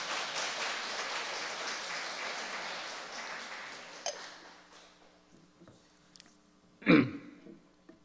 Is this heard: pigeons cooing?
no